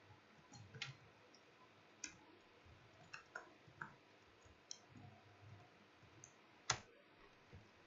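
Typing on a computer keyboard during a basic computer class, with faint, sparse, irregular key clicks and taps spread across the stretch, recorded quietly with no talking.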